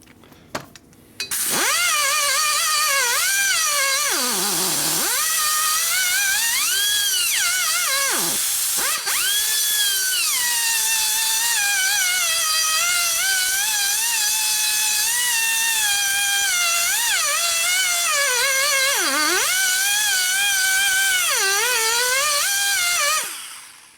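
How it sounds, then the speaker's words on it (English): A grinder works the edge of a cylinder head from a 1980 Harley-Davidson Sportster 74ci stroker, a loud, continuous high whine whose pitch sweeps up and down as the load changes, running for over twenty seconds before cutting off. "I could grind a little bit more on this edge here, I guess."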